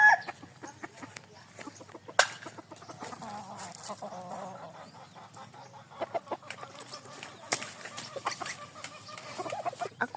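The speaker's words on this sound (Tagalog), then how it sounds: "Gikawat ang manok ni Carlito." Chickens clucking at close range in short, scattered bursts, with a few sharp louder calls and a rooster-like cry early on.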